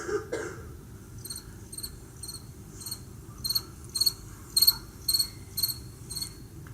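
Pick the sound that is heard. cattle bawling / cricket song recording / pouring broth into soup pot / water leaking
cricket song recording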